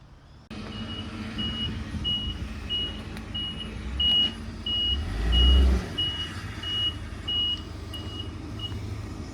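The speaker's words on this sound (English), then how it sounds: "I'm currently awaiting the tow truck to take it away" A tow truck reverses with a steady series of evenly spaced electronic beeps, its engine rumbling underneath and swelling briefly midway, heard close and clear without talk.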